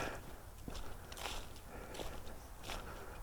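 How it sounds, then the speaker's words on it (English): Footsteps on a park hiking trail at Mt. Magazine State Park, Arkansas, a steady walking crunch with regular soft impacts close to the microphone and no talking. "I know you can hear every footstep on this audio"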